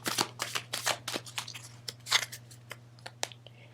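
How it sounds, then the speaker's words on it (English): A tarot deck is given a quick mini shuffle, producing a run of soft, papery riffles and flicks in irregular bursts, close and fairly quiet over a steady low hum, with no talking. "I'm going to do a quick mini shuffle for this."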